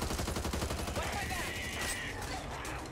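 Rapid zombie-shooter gunfire from Back 4 Blood, dense overlapping bursts of shots running steadily through the whole moment, loud and close, with players talking over it.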